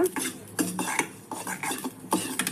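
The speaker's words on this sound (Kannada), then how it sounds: "ಮಸಾಲೆ ಈ ಥರ ಕೆಂಪಾಗೋ ಥರ ಹುರ್ಕೋಬೇಕು ಅಂದರೆ ಮೆಂತೆ ಎಲ್ಲ ಕೆಂಪಾಗೋ ಥರ" Spices and fenugreek seeds dry-roasted in a pan for green chilli pickle masala, with repeated scraping and clinking of a metal spoon against the pan in close, irregular strokes.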